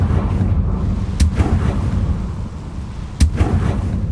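Confringo blasting spell explosions in the Hogwarts Legacy video game: a steady low rumble broken by two sharp, loud blasts about two seconds apart, each with a brief ringing tail.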